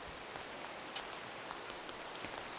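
Steady rain falls in a video game, a faint, even hiss of droplets with a few soft patters, continuous and without talk.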